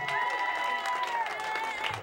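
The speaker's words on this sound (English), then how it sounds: "Can we have a nice round of applause for my Uncle Leo?" A studio audience at a late-night comedy show applauds and cheers, with a continuous crowd roar that stays fairly loud for about two seconds while a sustained musical tone plays underneath.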